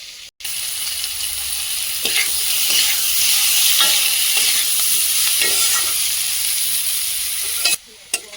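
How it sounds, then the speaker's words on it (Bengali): Onions and potatoes fry in a pan for a Bengali vegetable curry, a steady loud sizzle running throughout with repeated scraping strokes of the stirring spoon, no voices. "এই যে পেঁয়াজ এবং আলু খুব ভালো করে ভাজা ভাজা হয়ে গেছে"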